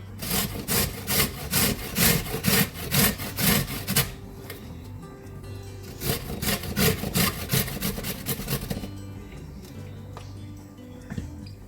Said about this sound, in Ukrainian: Далі тру морковку.